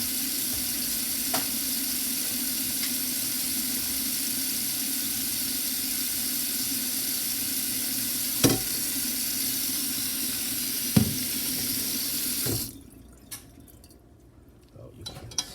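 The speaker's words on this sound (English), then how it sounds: "Get the cold water going." Cold water runs steadily from a tap in a workshop setting, a constant hiss that stops near the end, with a few faint knocks and clicks.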